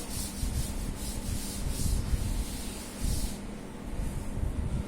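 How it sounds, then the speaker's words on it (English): Chalkboard writing being rubbed out with an eraser: steady, close scrubbing strokes in a rhythmic back-and-forth pattern, with no talk. "Now I am going to rub the statement of the theorem for the proof of the remaining part"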